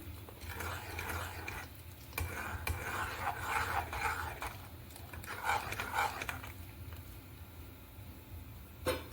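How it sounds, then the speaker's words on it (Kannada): A spoon stirring a thick, bubbling rice-flour porridge in a pot for chicken kajjaya, with soft scraping and gloopy bubbling in uneven strokes, moderately close over a steady low cooking rumble. "ಗಂಟಾಗದೇ ಇರೋ ಥರ ಮಿಕ್ಸ್ ಮಾಡ್ತಾ ಇದ್ದು ಈ ರೀತಿ ಗಂಜಿ ಆದಮೇಲೆ"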